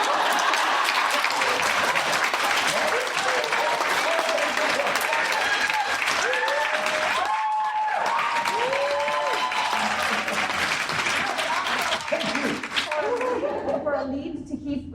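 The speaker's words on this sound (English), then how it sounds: "This is when you applaud." An audience breaks into sustained applause, a dense, loud wash of clapping that fills the whole stretch and thins out near the end, with voices mixed in.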